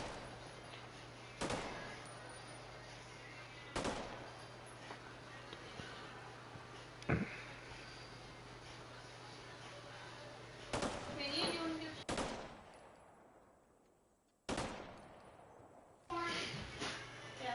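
Gunshots ring out on a shooting range as targets are engaged, sharp isolated cracks spaced a few seconds apart over a steady background hum, with speech in between.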